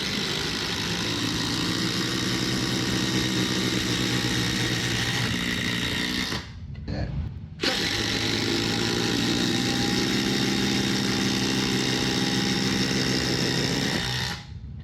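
Ryobi One+ and DeWalt Atomic cordless impact drivers running flat out side by side, a loud continuous buzzing whine that stops briefly midway and then resumes before cutting off near the end.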